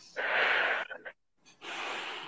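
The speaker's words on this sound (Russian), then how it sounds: "Давай, еще вдох." Two long, deep breaths drawn in during a guided breathing exercise, loud and close, with a brief ragged catch and a short silence between them.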